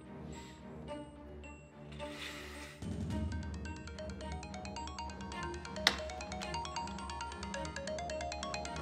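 A phone rings with an incoming call, playing a melodic ringtone with bright repeating tones. It is heard clearly and alone after a quieter, softer opening.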